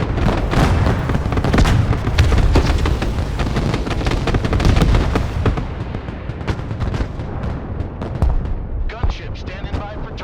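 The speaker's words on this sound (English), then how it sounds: "let's just keep hitting them with artillery" Heavy artillery barrages in the strategy game Broken Arrow, loud dense booms and rumbling blasts rolling almost nonstop, thinning toward the end with a few sharper impacts.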